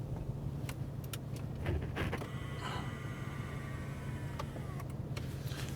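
Inside a 2019 Mercedes-AMG C63 S Coupé, the electric motor of an AMG comfort seat extends the seat with a faint whirring hum, mixed with light creaks and clicks against a low cabin rumble.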